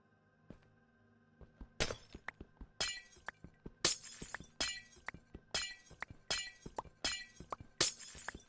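Glass blocks breaking in Minecraft, a series of sharp, crisp shattering bursts at fairly regular intervals, with soft clicks and taps in between, close and clear.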